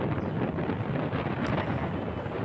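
Wind roars steadily against the microphone, a dense, loud rushing blast with slight surges, continuous from start to end.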